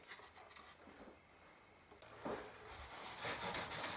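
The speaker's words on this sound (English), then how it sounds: "So I'm going to sand it all down again with 500 grit." Wooden mandolin body being sanded by hand with fine 500 grit sandpaper, soft rubbing strokes that come in short uneven passes, quiet and close, growing slightly louder toward the end.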